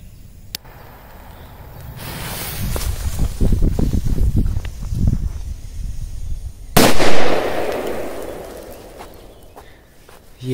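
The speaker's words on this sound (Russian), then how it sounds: "Так, давайте корсаром 6 взорвем вот эти кусты." A sharp pop, a crackling rumble of small blasts, then a loud outdoor bang as a Korsar-6 firecracker explodes in bushes, followed by hissing debris and a few faint crackles.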